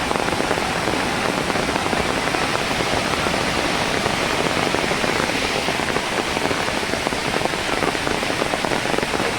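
Monsoon floodwater in swollen streams and rivers in rural Konkan roars in a dense, unbroken rush of water, loud and steady throughout with no pauses.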